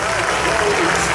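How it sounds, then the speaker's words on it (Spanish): A crowd at a town event honoring the local majas bursts into loud, dense applause for a young woman named Elena, continuous and close, with voices mixed into the clapping. "ese fuerte aplauso"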